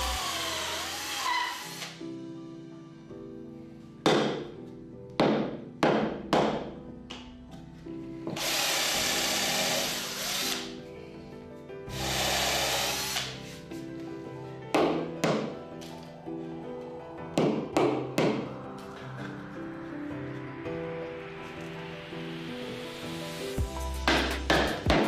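Power drill boring dowel holes in scaffolding-board wood for a table, several loud whining bursts separated by sharp knocks and taps, with a rising motor whir near the end and no speech.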